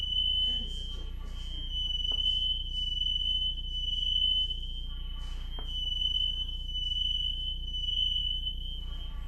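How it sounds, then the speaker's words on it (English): Household smoke alarm shrilling continuously in a house, a steady piercing high tone sounding throughout at moderate distance, with faint clicks and brief background noises underneath. "The alarm is going off in the house."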